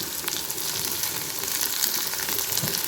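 Sliced onions sauté in hot oil in a pan, a dense, even crackling sizzle that stays steady and close with no voices.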